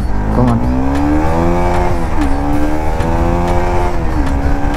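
Bajaj Pulsar NS200 motorcycle engine accelerating while riding, a loud, steady, close roar with pitch climbing through the revs and two brief dips like gear shifts.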